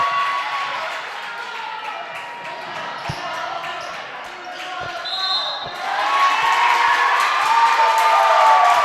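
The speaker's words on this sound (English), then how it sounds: "You can hear the Fairfield Ludlowe crowd as they are getting into this one now." Fairfield Ludlowe crowd at a girls' varsity basketball game against Darien, cheering and shouting steadily with a ball bouncing on the court, swelling louder in the last few seconds.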